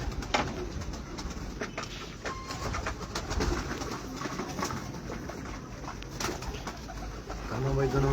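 Domestic pigeons cooing amid a busy bird setting, soft repeated coos under steady crowd and background noise, with people talking nearby.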